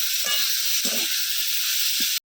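Steady, dense sizzling hiss of figs and potatoes frying with light spices in a pan on a village clay stove, close and continuous with a few faint stirring scrapes, cutting off abruptly at the end.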